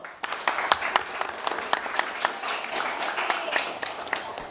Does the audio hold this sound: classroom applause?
yes